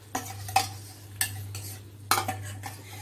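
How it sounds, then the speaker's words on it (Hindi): A utensil scrapes around a pan as cream is stirred into coriander chicken (dhaniya murg) over a low gas flame, making a few distinct close scraping strokes over a steady hum with only a faint sizzle. "मिक्स करेंगे प्रॉपरली।"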